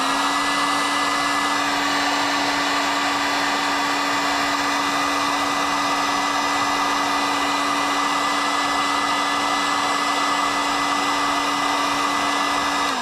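Heat gun blowing steadily on a coated homemade non-metal mold, a loud constant whirring hum with rushing air, close up and unbroken for the whole stretch, no speech.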